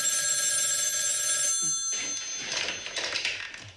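A telephone rings close by in a high sustained electronic trill that cuts off abruptly partway through, followed by quiet shuffling room noise.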